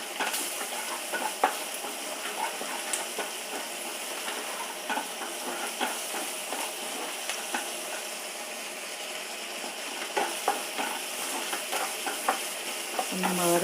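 Onions sautéing in a pan with green and dried chillies, a steady sizzle and frying hiss broken by frequent scraping clicks of a spoon stirring, continuous and close with no talking.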